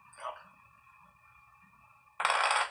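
A handheld detector near a household smart meter picks up its transmission as short, faint ticking bursts. A small click comes early, then a louder crackly burst after a quiet pause, both alone with no talk.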